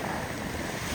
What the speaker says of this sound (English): Boy, look at the waves.